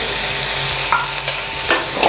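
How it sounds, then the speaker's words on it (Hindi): Spatula stirring chicken filling with soy sauce in a frying pan, a steady loud sizzle with a few light scraping taps against the pan, no talking. "और इसे अच्छे से मिक्स करूँगी।"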